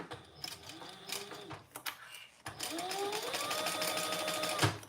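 A sewing machine basting fabric seams, its rapid mechanical stitching chatter heard close up, first in short bursts and then in a longer steady run, with no talk over it.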